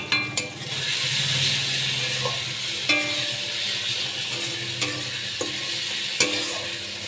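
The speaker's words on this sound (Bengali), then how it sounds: "মশলা কষানো হয়ে এসছে, মশলা থেকে তেল ছাড়তে আরম্ভ করেছে।" Spice masala with Kashmiri chili powder, for an egg and potato curry, fries in a pan with a constant close sizzle and occasional scraping and tapping stirs.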